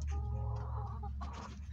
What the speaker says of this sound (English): Brownie, you're just a chicken, aren't you?